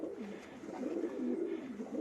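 Racing pigeons from a breeder's loft cooing in soft, continuous rolling murmurs, close and moderately quiet, with overlapping calls and no other sounds.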